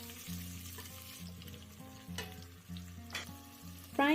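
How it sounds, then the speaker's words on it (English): Steady, close sizzling of diced potato, carrot and other vegetables frying in hot oil in a pot for lentil soup, with a faint continuous hum underneath and occasional louder crackles, no voices. "Frying the ingredients before cooking them will allow them to release more intense flavor into the stew."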